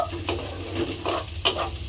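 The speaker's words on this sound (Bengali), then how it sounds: "সেই আদা কুচিটাও আমি এর মধ্যে দিয়ে দিলাম দিয়ে আবারও একটু নাড়াচাড়া করে ভেজে ভেজে ভাজা ভাজা মতো করে নেব" Chopped ginger is stirred and fried in a pan: a soft, steady sizzle broken by several scraping stirs, close and fairly quiet.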